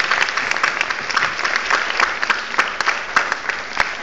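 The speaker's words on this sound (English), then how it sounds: "Let's hear it for Dale." Audience applause at an award ceremony, steady clapping from a crowd with sharp individual claps standing out, filling the room without pause.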